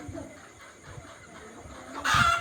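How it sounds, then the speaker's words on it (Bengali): Egyptian Fayoumi chickens on a farm clucking softly in the background, ending with a louder burst of squawking near the end. "অরিজিনাল মিশরি ফাওমি মুরগি"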